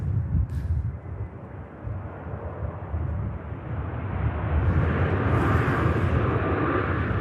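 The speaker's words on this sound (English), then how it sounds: "What a great touchdown from the Ryanair." A Ryanair Boeing 737 Max 8200 inbound from Berlin touches down at Manchester Airport, a broad rumbling engine wash building gradually and growing louder toward the end, with no voices.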